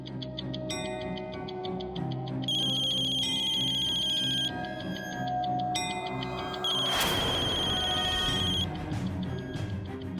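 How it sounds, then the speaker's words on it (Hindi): Mobile phone ringtone in a domestic TV-serial scene, a repeating melodic electronic ring that rises and continues for several seconds, fairly loud and close, with no talk over it. "अरे उठा लो, कोई जरूरत में फोन कर रहा होगा।"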